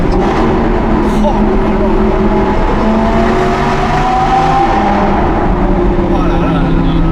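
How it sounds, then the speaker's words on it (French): Audi R8 V10 Plus fitted with a Capristo exhaust, its engine droning steadily and loudly throughout with a continuous rich rumble, people talking over it. "Il est vraiment agréable ce moteur, beaucoup de couple."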